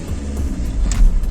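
A 2011 Hyundai Accent with a 1.4 L engine pulls away from a standstill, its low engine rumble building steadily and growing a little louder over a second and a half, with no talk over it.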